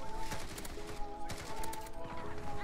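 CR-56 AMAX rifle bursts in Modern Warfare, a fast run of sharp gunfire cracks over the din of game battle, steady and fairly faint across the short stretch.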